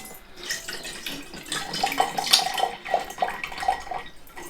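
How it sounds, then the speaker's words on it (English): Water splashes and gurgles into a container for a liquid density experiment at home, a steady pour with bright bubbling trickles running for several seconds, fairly close and alone. "let's put some water in"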